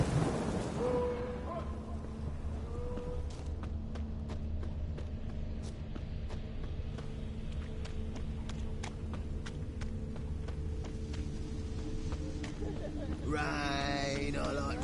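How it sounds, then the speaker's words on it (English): Steady rain pours in The Witcher 3, with occasional rumbles of thunder and scattered sharp drips or clicks over a constant wash of sound. "Rain, I like rain."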